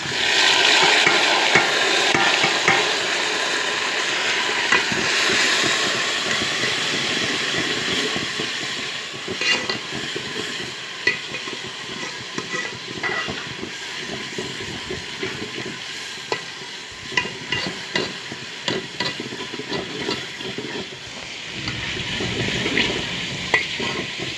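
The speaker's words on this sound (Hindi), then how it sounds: "टमाटर को भी अच्छी तरह भून लेंगे।" Tomatoes and onions sizzle and fry in a pan for biryani, with a steady loud crackle throughout and frequent scraping stirs of a spoon against the pot.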